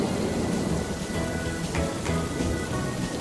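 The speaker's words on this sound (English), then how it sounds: "It's raining" Steady cartoon rain pours throughout, with a couple of thunder rumbles mixed into the dense, constant hiss; no talking.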